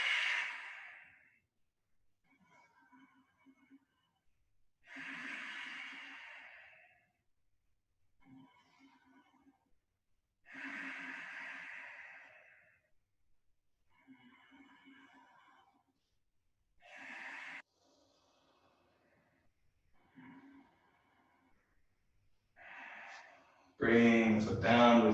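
Slow, deep breathing during a yoga tree pose, with full inhales and exhales repeating about every five seconds, each breath soft and close, followed by a brief louder burst at the end.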